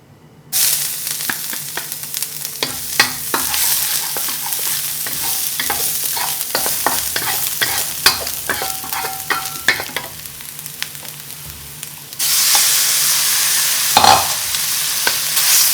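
Cumin lamb aromatics sizzle and fry in a hot oiled pan, a loud steady crackle with scraping stir strokes, swelling into a brighter, fiercer hiss near the end.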